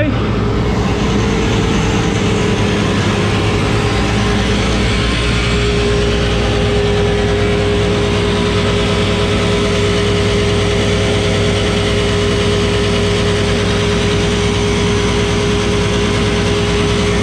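A chaff cutter runs steadily after its bearings were replaced and blades balanced, a continuous loud mechanical drone with a faint constant whine, close and unbroken throughout, no talking.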